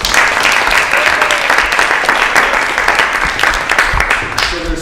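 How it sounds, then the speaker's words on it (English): Steady applause from an audience fills the room, loud and sustained for several seconds before tapering slightly at the end. "So give him a round of applause."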